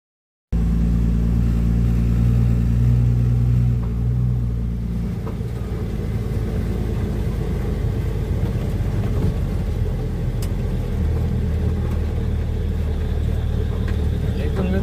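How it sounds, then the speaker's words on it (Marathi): Large overloaded trucks pass on a road near the Maharashtra–Telangana border, giving a loud, steady low engine rumble that swells early and then continues as a heavy drone. "एवढ्या मोठ्या गाड्या येतात"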